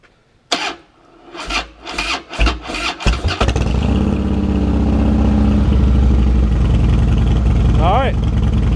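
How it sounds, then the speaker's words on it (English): A motorcycle fitted with a Dyna tin set cranks a few times in short rasping bursts, then catches and settles into a continuous running rumble; a voice speaks briefly near the start. "let's just crank it up, or try and crank it up,"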